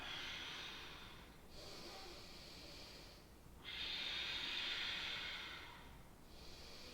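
Slow, steady yoga breaths during a micro bridge pose, with broad airy exhales rising and falling in long, soft swells and brief quiet pauses between them, close and alone.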